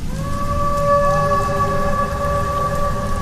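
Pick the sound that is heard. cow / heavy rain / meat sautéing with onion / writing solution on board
heavy rain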